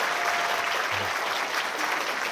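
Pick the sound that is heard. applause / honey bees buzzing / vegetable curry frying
applause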